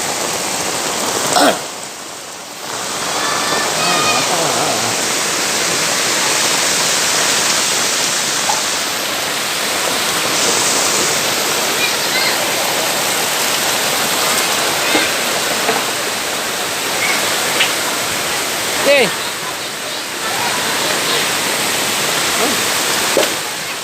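Loud, steady rushing floodwater roars throughout during a typhoon in Camarines Sur, broadband and continuous like a torrent, with a few brief knocks and faint voices in the background.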